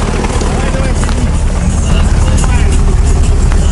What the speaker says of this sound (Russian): Да там грохот стоит от мотора.